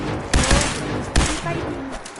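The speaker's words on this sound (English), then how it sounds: "We appear to be under fire." Bursts of gunfire from a Fallout 4 firefight, two sharp volleys standing out over a continuous rattle of shots and battle noise, with a voice speaking faintly underneath.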